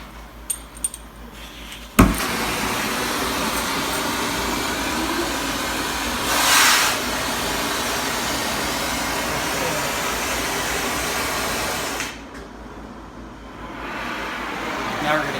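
A flame wrench torch heating the bearing collar of a 2011 Polaris Ranger Crew center bearing gives a steady, loud broadband roar that ignites with a sharp pop and runs continuously for about ten seconds before cutting down.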